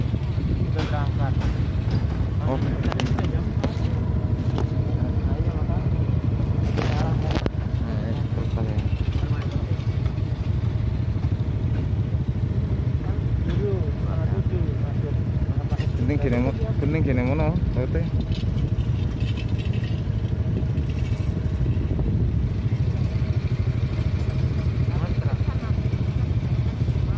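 Motorcycles on a river crossing ferry near Bekasi, a continuous loud engine rumble with rattling and clatter, while people talk over it throughout.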